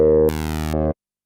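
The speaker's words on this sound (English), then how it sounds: "we'll set it to like a wah. And we'll change through the filter settings." Zero-G Epica virtual synth playing a sustained harmonic-rich tone through a wah filter, its timbre jumping brightly partway through, then cutting off abruptly into silence after about a second.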